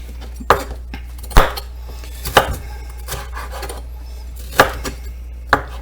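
A knife chops food into bite-sized pieces on a cutting board, giving about five sharp, irregularly spaced knocks over faint background noise, with no talking.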